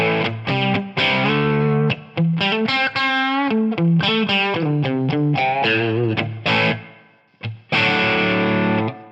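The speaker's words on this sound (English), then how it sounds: "here's the core tone with the reverb, how I would probably more typically set it" An electric guitar played through a Z-Rec Jr. amp model with reverb: distorted chords and single notes ring out in phrases with brief gaps, with reverb tails trailing each one, close and loud.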